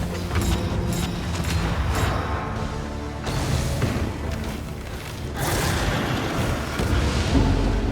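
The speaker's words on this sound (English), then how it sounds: "And we're gonna fire grenade." Grenade launched and bursting in the video game Darkest Dungeon 2, a dense, continuous run of booming, thudding impacts and rumble layered over game sound, loud throughout with swells around the middle and end.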